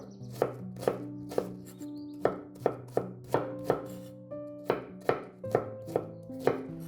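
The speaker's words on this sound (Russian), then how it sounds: "мы с вами нарезали лук" A knife chops an onion steadily on a board, about a dozen crisp, evenly spaced strikes ringing slightly, close and clear with no talking.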